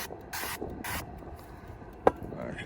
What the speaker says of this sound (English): give them a little spray